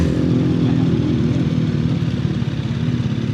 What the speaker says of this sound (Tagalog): Nami-miss ko ang tunog ng stock exhaust ng 675 NK.